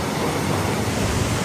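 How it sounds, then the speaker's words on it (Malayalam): Strong wind blows outdoors in Minatitlán, Mexico, a steady, loud broadband roar buffeting the microphone without letup, with no clear voices over it. "അമ്മ എന്തൊരു കാറ്റ്"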